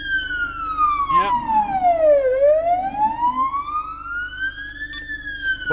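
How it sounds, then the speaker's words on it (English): A UK 999 ambulance siren wails loud and close, with a long tone sweeping slowly down and then back up, over a low background hum. "when they press the horn twice, it turns off the actual siren"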